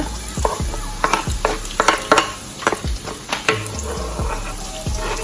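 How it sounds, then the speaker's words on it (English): Scallions, garlic and onion sizzle and crackle in a frying pan while a utensil stirs and scrapes through them, with repeated clinks and scrapes at a steady pace under a continuous fry, close up and with no talk. "I'm gonna put in the scallion and the garlic. First, with the onion,"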